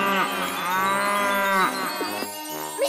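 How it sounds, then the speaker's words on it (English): A cartoon cow moos in a long, drawn-out low call, followed by a few shorter grunting moos, close and clear with no talking. "Can you echo back the sound of the cows, Mr. Echo?"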